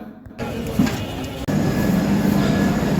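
A train rumbles steadily into Bardhaman station, a continuous loud mechanical roar with a brief dip partway through, no talking.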